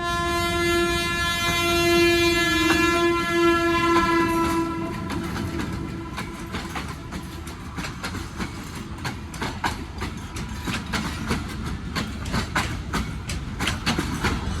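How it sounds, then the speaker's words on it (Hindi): Hazara Express passenger train passing nearby on a foggy day in Pakistan, a long steady horn sounding over the rumbling cars for several seconds, then rhythmic clattering of wagons continuing loudly to the end. "ये है जी हज़ारा एक्सप्रेस जो कि जा रही है इस वक्त कराची"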